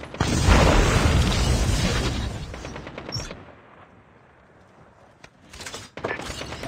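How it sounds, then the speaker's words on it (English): Vehicle explosion in a battle royale video game: a loud, sustained blast and rumble that fades away over a few seconds, followed by quieter mechanical clanks and a fresh burst of noise at the end. "vehicle is about to explode."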